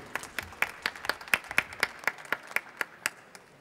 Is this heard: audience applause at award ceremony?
yes